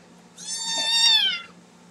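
A house cat gives one drawn-out, rising then falling meow, clear and close against a quiet background hum, with no talking.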